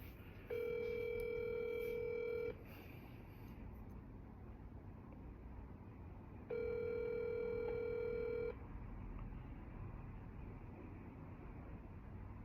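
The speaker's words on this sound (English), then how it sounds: "All right, dialing." An outgoing telephone call plays two long, steady ringback tones separated by a pause, faint over a low background hum.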